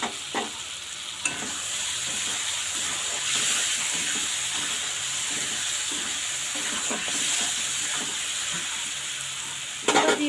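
Potatoes fry in oily spice masala for a pangas fish curry, a steady close sizzle and hiss broken by a few sharp utensil clinks near the start and end.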